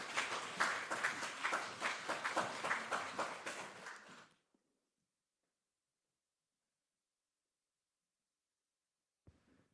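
A church congregation at an early-morning prayer service applauds with quick, steady clapping for about four seconds, then it stops abruptly, leaving near silence.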